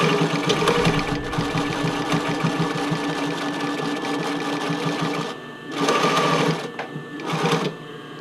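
A sewing machine zigzag-stitches the fitting band of an Eve Classic bra, running in a loud, steady whir for about five seconds, then pausing and starting again in two short bursts.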